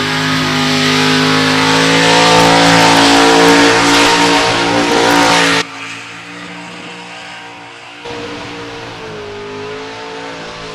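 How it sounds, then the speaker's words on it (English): A VXSS Commodore with an LS V8 roars at high revs during a burnout final at Summernats, a loud sustained engine howl that suddenly drops away, then returns more quietly for a few seconds. "Gerard Frederickson is now coming forward in this VXSS Commodore"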